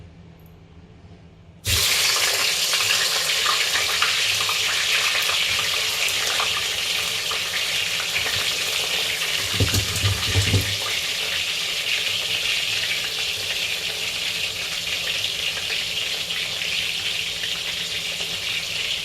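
Food drops into hot oil for a courgette and potato gratin, setting off a sudden loud, steady hiss that stays constant, with a brief low thump partway through.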